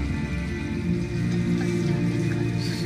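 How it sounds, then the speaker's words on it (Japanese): Steady rain falling in a nighttime city scene in the video game Detroit: Become Human, a continuous dense hiss with low background rumble and no voices. "雨降ってるね。"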